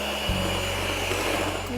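Electric hand mixer beating soft room-temperature butter into coffee cake batter, a steady close motor whir running loud and continuous throughout.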